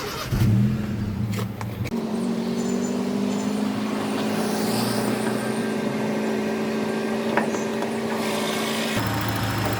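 A 1.5 liter Honda B15B engine in a project car cranks briefly, catches and then settles into a steady, fairly loud idle for several seconds before shutting off near the end.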